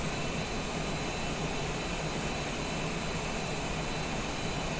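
Cessna Citation Longitude business jet in Microsoft Flight Simulator, a steady broadband engine roar with high whine, constant and unbroken in flight.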